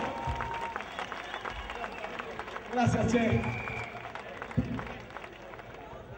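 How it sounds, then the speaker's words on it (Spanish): A concert audience in Tomiño applauds in a steady crowd wash that swells briefly midway, while a performer speaks a few words over it. "Fuertísimo aplauso"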